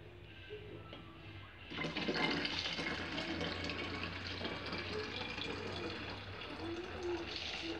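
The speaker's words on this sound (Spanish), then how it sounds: "vamos a agregarle un vaso de agua" A glass of water poured into a plastic bottle already holding cooking oil, a steady splashing, gurgling stream that starts abruptly and runs continuously, close and fairly loud.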